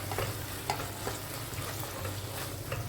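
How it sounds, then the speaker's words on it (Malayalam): Tomatoes softening in a pan for a coconut-free Kerala fish curry, with a steady low sizzle and occasional stirring scrapes throughout, close and fairly quiet, no talking. "പിന്നെ നമ്മുടെ തക്കാളിയെല്ലാം ഒന്ന് വാടി വന്നിട്ടുണ്ട്."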